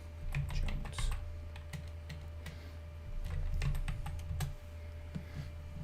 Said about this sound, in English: I know this is scintillating and watching me type